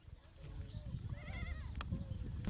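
A goat bleats with a wavering cry over low rumbling background noise outdoors in a village in India.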